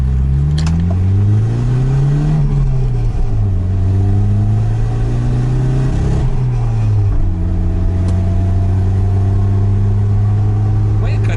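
A Nissan 200sx with a manually adjusted idle runs steadily close by, its engine note rising and falling in a few smooth revs before settling back to a slightly high idle.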